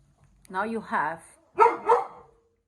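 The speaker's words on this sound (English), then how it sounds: "there was a dog barking" A dog barks in two short bursts close by, each a pair of loud yelps about a second apart, with no talk over them.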